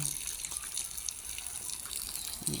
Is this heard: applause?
no